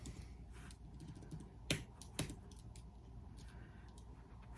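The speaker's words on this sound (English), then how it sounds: "So I'm actually going to type it in" Quiet typing on a computer keyboard, soft irregular key taps over low room hiss with two sharper clicks in the middle.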